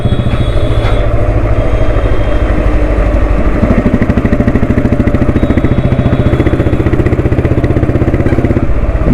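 A Royal Enfield Electra motorcycle engine idles with a steady, loud, close thumping beat, each firing pulse evenly spaced and continuous throughout with no talk.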